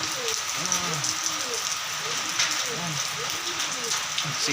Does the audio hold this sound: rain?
yes